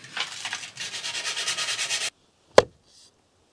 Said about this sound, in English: I'm sanding down an axe head that's getting ever sharper by the minute